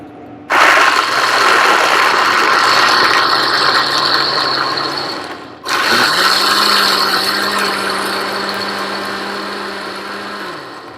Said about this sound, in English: now I'm going to blend this up